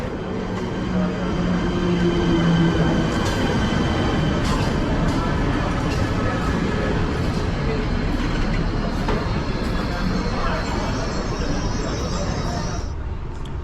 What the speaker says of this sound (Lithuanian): Iš Bratislavos centrinės stoties traukinys pajudėjo apie 16 valandą.